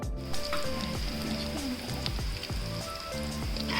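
Onions frying to light brown in a pan for chicken korma, a steady close sizzle with soft bubbling and scattered pops, along with faint clinks of a utensil.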